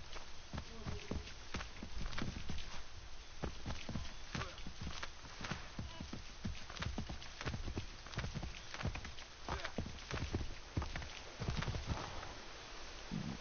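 Horse hooves clip-clop steadily in Assassin's Creed III, a dense run of quick thuds at moderate loudness with a faint insect-like hum in the background and no talk.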